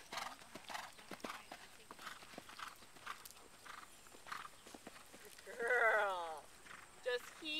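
Horse hooves clip-clopping in a steady gait as a mare is ridden toward an oxer jump in a training session, close and clear, with a brief whinny partway through and an instructor talking over it.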